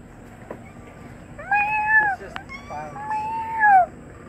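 Two drawn-out meows from a nearby cat, each rising then falling, separated by a short pause over a quiet background.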